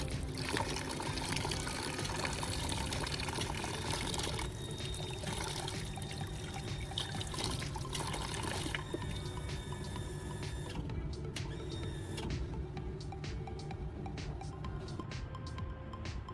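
Steady, continuous running water washes a freshly made knife with a PVC pipe handle, a dense unbroken rush with no talk.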